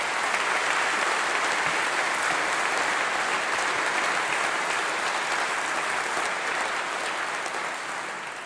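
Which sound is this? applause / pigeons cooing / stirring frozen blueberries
applause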